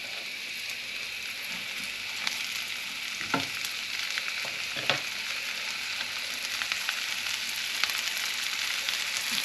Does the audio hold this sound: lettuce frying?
yes